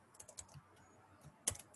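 Rapid keystrokes on a computer keyboard while writing Python code, a soft scattered patter of clicks ending in a brief louder cluster of taps, close and quiet with no talking.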